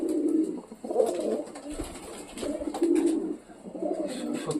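Pigeons coo in repeated low, throaty bursts, close by, with short pauses between calls.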